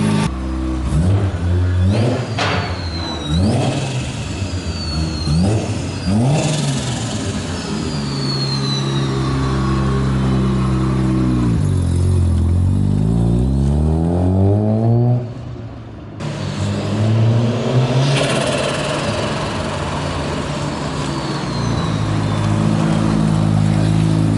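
A nearby Mazda RX-7 FD engine revs repeatedly outside before a dyno run, climbing and dropping in pitch in several loud bursts, with a brief lull before idling and revving again.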